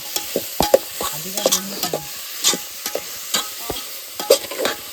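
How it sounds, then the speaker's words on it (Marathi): Onion frying in hot oil with whole spices in a pan, a soft steady sizzle broken by repeated clinks and scrapes of a spoon stirring, close and fairly quiet. "जरा भाजूया कांदा."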